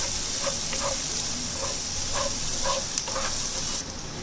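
Two medium chopped onions sauté in a pan for dhaba-style palak paneer, giving a steady close sizzle with faint rhythmic stirring taps throughout.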